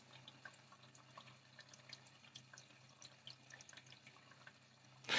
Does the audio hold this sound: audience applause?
no